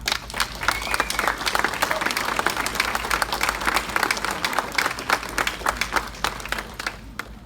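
A wedding reception audience gives a round of applause for the groom's mother and grandparents during a best man speech: dense, sustained clapping from a large crowd, fairly loud and even throughout, tapering slightly at the end.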